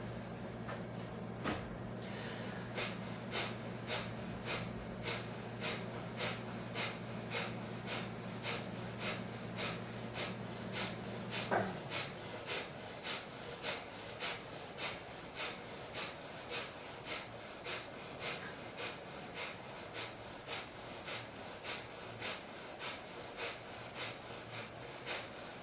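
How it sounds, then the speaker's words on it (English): Breath of fire, a rapid Kundalini breathing exercise: quick, evenly spaced forceful exhalations through the nose, about two per second, sustained for the whole stretch, close and steady, with a low hum dropping away partway through. "And then we're going to go into breath of fire."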